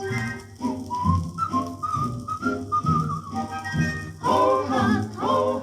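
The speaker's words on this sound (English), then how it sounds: "Pucker up your lips and whistle at the sunlight." A cheerful melodic whistle from an old orchestral recording of a Snow White song, carrying a tune in short phrases over orchestral accompaniment, steady and prominent throughout.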